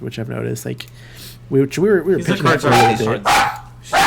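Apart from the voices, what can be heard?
dog barking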